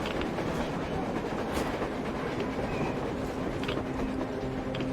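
A train rumbling along in a video game set underground, with steady rolling noise and faint rhythmic rail clatter, continuous and moderately loud, no voices.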